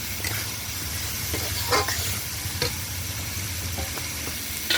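A pumpkin and potato curry with prawns sizzles steadily in a pan after water is added, a continuous hiss and bubbling with a few brief stirring clatters, close and even throughout.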